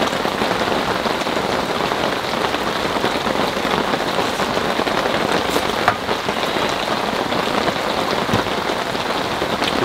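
Steady heavy rain patters on a new tent at a campsite on a rainy day, a dense continuous hiss of drops on the fabric with no talking, close and loud throughout.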